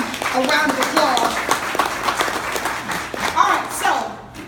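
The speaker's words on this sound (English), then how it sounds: "please give them a round of applause" An audience at a Delta GEMS 2017 gathering applauses for award recipients, a steady wash of clapping lasting several seconds, mixed with voices and cheers before fading near the end.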